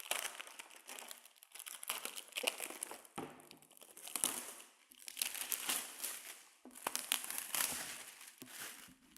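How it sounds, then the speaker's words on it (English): Cellophane wrapping crinkling and tearing as it is ripped off a new wakeboard, a long close run of crackling, crumpling bursts with brief pauses between pulls. "rip off your cellophane"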